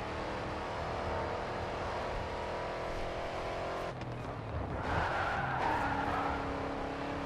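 A race car engine in the video game Grid 2 roars steadily with revving and tire squeals, a continuous loud motor sound that shifts pitch partway through.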